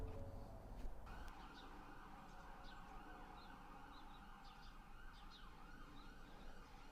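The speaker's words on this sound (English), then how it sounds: "The noises of sirens intermingled with the birds." A siren wails steadily at a distance while birds chirp intermittently nearby, over a low background rumble.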